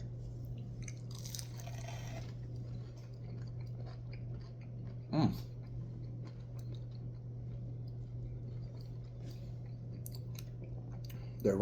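Charley's Philly Steaks Scorpion Sting chicken wings dipped in ranch are chewed close up, with soft, faint wet mouth sounds over a steady low background hum and one brief louder crunch partway through.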